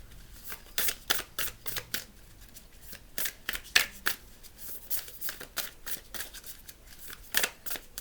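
Tarot cards being shuffled in the hands: quiet, close, crisp riffling bursts repeating irregularly over several seconds, with no talking.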